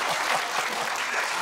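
A church congregation applauding during a sermon, a brief, dense and steady wash of many hands clapping together, fairly loud and even throughout.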